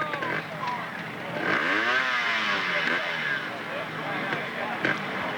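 A trials motorcycle engine at a 1992 World Trials Championship round in Camerino, Italy, revving up and down in rising and falling sweeps at moderate distance, with crowd murmur and talk beneath.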